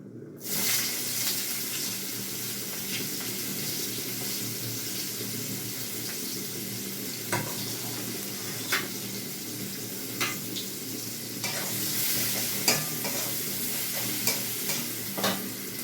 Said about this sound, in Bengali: তেলের মধ্যে আমি এই যে পেঁয়াজ এর মধ্যে আমি পেঁয়াজ কুচি দিয়ে দিচ্ছি